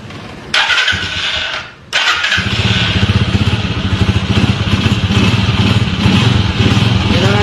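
A Skygo motorcycle with its stock spark plug cranks briefly, cuts out, then fires up and idles close by with a steady, slightly uneven putter.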